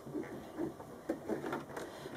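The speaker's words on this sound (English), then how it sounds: "I'll just hand crank that through just to make sure everything is behaving as we're expecting it to" A sewing machine with a cording foot, turned slowly by hand crank, stitches through three layers with soft, irregular mechanical ticks and clicks, faint and close, with no voice.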